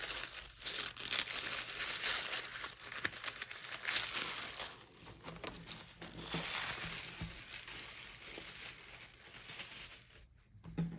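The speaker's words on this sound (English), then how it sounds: "And then we've got some tissue paper with a thank you seal." Tissue paper around a planner order being unwrapped and crumpled, a long close rustling crinkle that runs almost nonstop and eases off only briefly near the end, with no talking.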